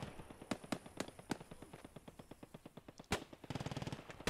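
Gunfire in the World War II shooter game Post Scriptum, rapid bursts of automatic fire mixed with single sharp shots, a loud crack near the end, then a fast rattling burst.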